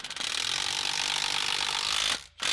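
A torque wrench ratchets steadily on the water pump bolts of a Corvette ZR1 engine, a fast continuous clicking that stops briefly near the end, then resumes, with no voices.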